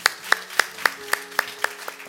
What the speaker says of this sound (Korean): 우리 하나님 앞에 박수로 감사 영광 올려드리십시다.